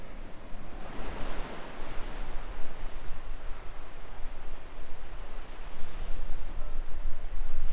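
Ocean waves surging below a sea cliff on the coast near Portland, Maine, a steady broad wash of surf with swells rising and falling, mixed with some wind rumble, no voices.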